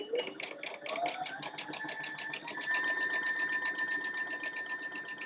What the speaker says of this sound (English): I'm going to put this in my machine and sew at a scant 1/4 inch